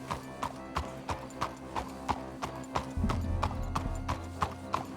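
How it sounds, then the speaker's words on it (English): Horse hooves clip-clop in the video game Red Dead Redemption 2, a steady, evenly spaced trot of clear hoof strikes over a low, rumbling background that grows louder midway. "Horses are in step again."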